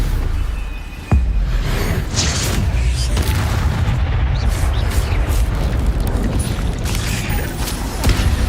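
Spell-casting impacts in the Hogwarts Legacy video game, a sharp boom followed by a sustained rumbling, crackling barrage of magic effects at steady loudness.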